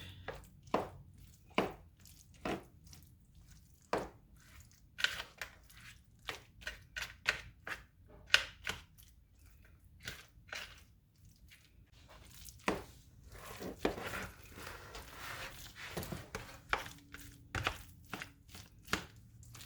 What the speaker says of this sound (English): make sure all of the breadcrumbs are covered with the mixture